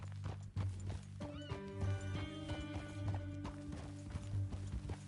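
Hooves clip-clop steadily while a horse lets out a neigh in Red Dead Redemption 2, with other game sounds layered under the clopping.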